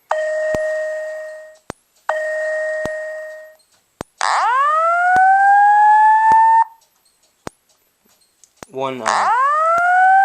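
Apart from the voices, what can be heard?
Wheelock ET-1080-SLM-24 fire alarm tone during testing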